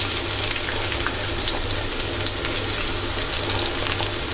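Plenty of onions frying in oil for prawn bhuna, a loud steady close sizzle with constant fine crackle and a low hum underneath, no talking.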